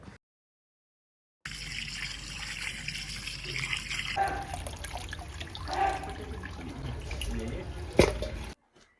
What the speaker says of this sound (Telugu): చికెన్ని ఫ్రెష్గా కడగాలి